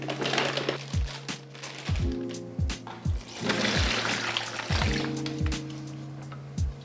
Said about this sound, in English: we can place the turkey in, and then we can pour the brining over top